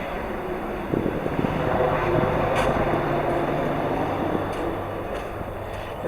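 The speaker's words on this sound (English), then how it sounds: "A truck going by." A truck passing by near a farmhouse on a rural farm, a broad steady engine and road rumble that swells and holds for several seconds, loud and continuous with no talk.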